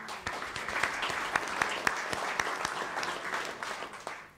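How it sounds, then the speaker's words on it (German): Audience applause in a pavilion hall at a public hearing, clearly separate claps from a modest crowd, close and fairly loud, with a sparse irregular rhythm that fades near the end. "Ich glaube, das ist ein Applaus wert."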